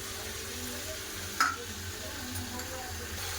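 Chopped tomato and green chili frying in a pan with soaked raw chickpeas for a fish-head curry: a soft, steady sizzle with one sharp click of a utensil midway.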